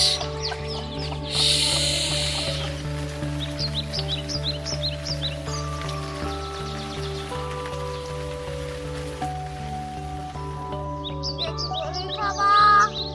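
Chickens and a rooster cluck repeatedly at a rural grandmother's house, with pigeons kept nearby, scattered calls over a steady patter of rain and a constant background drone.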